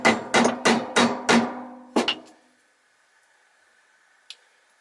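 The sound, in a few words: hammer tapping a vacuum cleaner pulley held in a vise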